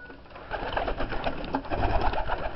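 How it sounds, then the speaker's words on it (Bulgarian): A white Chinese owl pigeon, a 2010 bird from Hungary, coos in a soft, continuous murmur close by, with low throaty pulses rising and falling over a steady background hum. "Този бял гълъб"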